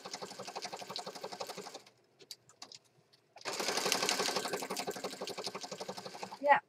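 A sewing machine stitches a handmade peacock-themed journal cover in steady, rapid bursts, running fast for a couple of seconds, pausing with a few soft clicks, then resuming louder and faster up close.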